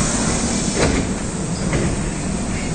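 Rumbling Osaka Municipal Subway Midosuji Line 10 series train arriving at Tennoji Station, enclosed underground platform, a steady low roar with a couple of brief hissing surges, no talking.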